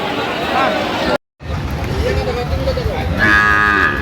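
Bulls and heifer calves moo loudly and close by at a Dhaka cattle market amid a murmur of crowd chatter and people talking, with a long low bellow near the end.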